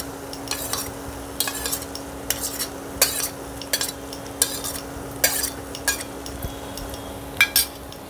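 Grated cheese being stirred into chicken alfredo in a pan, giving a steady run of soft scraping and light clinks of a spoon against the pan, close and fairly quiet with a low steady hum behind.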